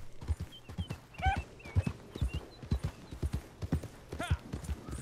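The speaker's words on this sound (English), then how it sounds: "I always forget that I can go faster on the horse too." Horse hooves clip-clop steadily while riding at an easy pace in the Red Dead Online video game, with the regular beats sitting close and clear alongside a few brief whinny-like calls.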